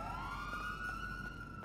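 A police car siren in the video game GTA V, a steady wailing tone sweeping upward and holding, fairly faint under ongoing game engine and street noise.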